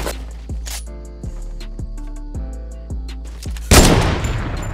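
Minigun fire in Fortnite, a loud rapid stream of shots punctuated by regular heavier bursts, ending in a big blast of noise near the end; no one speaks over it.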